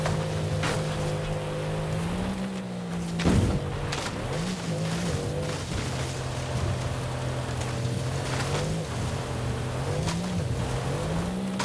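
A Lamborghini Centenario engine roars in a racing video game, droning steadily with gear shifts and rising and falling revs, plus a brief sharp impact noise early on, and no voices.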